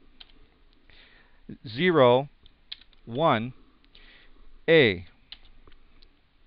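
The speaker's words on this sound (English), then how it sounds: "Now I'm going to type in hostname" Light keyboard typing on a computer while configuring a Cisco router hostname, soft scattered key clicks between stretches of someone speaking.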